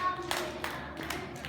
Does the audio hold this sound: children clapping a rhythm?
yes